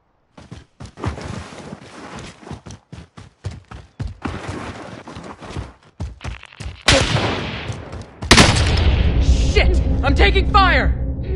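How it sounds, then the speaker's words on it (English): Incoming gunfire in Call of Duty Warzone: rapid, loud shots rattle in steady bursts, then heavier crashing fire and impacts erupt near the end. "I'm taking fire!"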